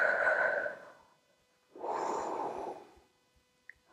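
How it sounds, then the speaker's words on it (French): Two close breaths pushed out through the mouth during a home HIIT workout, each a soft rushing exhale lasting about a second, separated by a short pause. "Expirez par la bouche."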